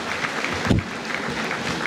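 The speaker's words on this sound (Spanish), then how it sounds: "que le llegue el aplauso al presidente" Crowd applause at a government event in Guerrero, a steady wash of many hands clapping, broken briefly by a low thump or shout near the middle, then continuing evenly.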